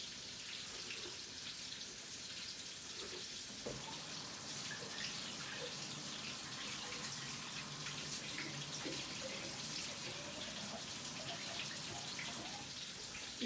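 Steady running water from a kitchen sink tap, a continuous broadband hiss that stays even and fairly close for the whole stretch, with faint clinks underneath and no talking.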